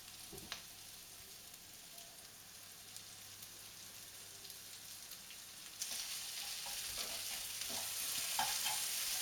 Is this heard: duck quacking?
no